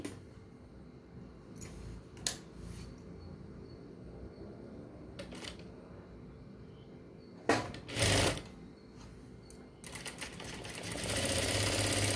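A sewing machine stitching leftover cloth into a hand purse, running in a steady whirring burst that starts and stops, with a few clicks and handling knocks between runs. It is close and moderately loud, with no talk.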